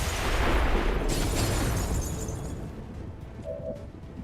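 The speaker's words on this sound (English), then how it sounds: "Before we leave, I guess we can trigger the C4 for fun." A C4 charge detonates in the XCOM 2 strategy game: a loud, close blast with a heavy rumbling boom that decays over a few seconds into fading debris and crackle.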